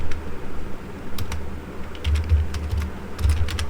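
Python code being typed on a computer keyboard, with rapid clicking keystrokes running throughout and heavier bursts of tapping toward the end, close and clear with no voices.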